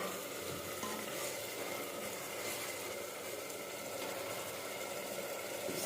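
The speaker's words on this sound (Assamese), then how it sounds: "মাংসটো ভাজা হৈ গ'ল" Meat fries in a pan while being stirred, giving a dense, constant close sizzle and scraping with no pauses over about six seconds.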